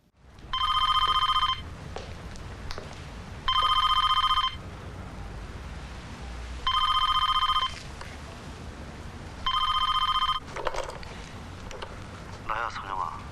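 A telephone rings in four bursts of bright trilling bell tones separated by pauses, loud and close, with quiet room noise between the rings and a voice speaking near the end.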